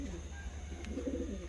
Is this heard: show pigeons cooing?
yes